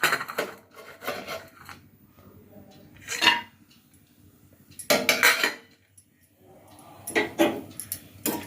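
Cashews roast in ghee in a pan for milk pongal, stirred in separate bursts of close scraping and rattling with quiet pauses in between.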